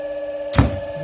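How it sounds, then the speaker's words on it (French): A second asynchronous electric motor switching on in a three-motor timed-start training setup, a sharp contactor clunk over a steady electrical hum that keeps running afterward, close and fairly loud with no talk. "le deuxième moteur qui s'enclenche."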